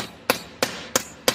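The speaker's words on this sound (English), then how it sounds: "The hammer, close this up." A hammer striking a part of a garage door during repair, four sharp metallic knocks at an even rhythm, close and loud with short decays.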